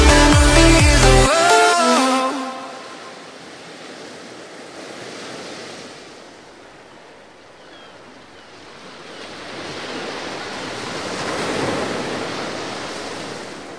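Sea waves wash onto the shore at a seaside camping spot in Europe, a steady broad surf rolling in and out with wind noise on the microphone, after a brief burst of music at the start.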